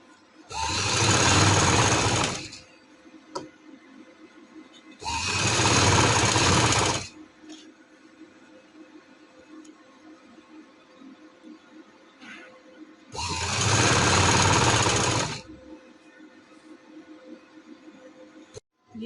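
A sewing machine stitching lace onto a party dress runs in three loud, steady bursts of about two seconds each, separated by quiet pauses with faint handling sounds.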